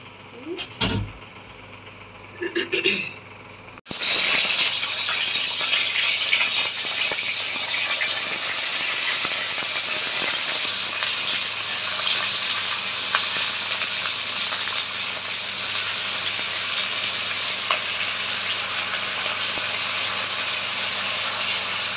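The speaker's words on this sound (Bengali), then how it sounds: "এবার ডিমটা ছেড়ে দেবো" Egg mixture for Bengali dim paturi hits a hot pan and sizzles loudly and steadily for the rest of the clip, with some clinking and muffled handling noises in the first few seconds.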